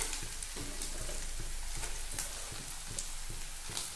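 Green chillies sizzle and fry on softened onions in a pan, a steady close crackle with faint rhythmic stirring scrapes, no talking.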